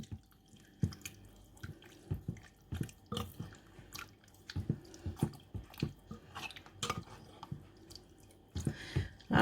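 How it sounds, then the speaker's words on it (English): Big spoon mixing a chicken dish in a pot, wet squelching and clattering stirs in an uneven rhythm of short bursts, close and fairly quiet with no voices. "just get a bigger spoon, is just give it a good mix around"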